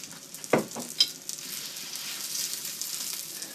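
A breadcrumbed pork Kiev frying in olive oil in a pan, with a soft, steady sizzle that follows a sharp clatter and a clink near the start, close and fairly quiet, with no voices.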